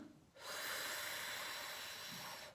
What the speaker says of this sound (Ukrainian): Вдихаємо через рота